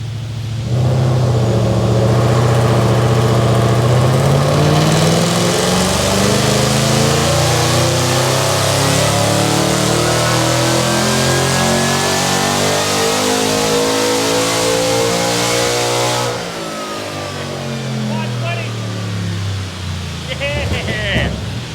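A fully worked supercharged 5-litre Ford Barra engine revs hard on a dyno, a loud sustained rising wail that holds for about fifteen seconds before dropping off, with shouting voices audible over the engine.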